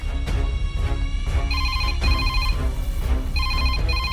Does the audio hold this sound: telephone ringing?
yes